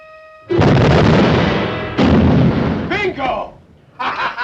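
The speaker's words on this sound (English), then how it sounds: "First torpedo should be hitting about now." A torpedo striking a ship in a 1951 submarine war film, two heavy booming explosions that roll on and fade, followed by voices speaking.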